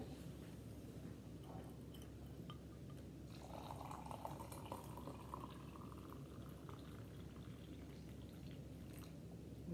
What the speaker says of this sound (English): And then put my hot water in.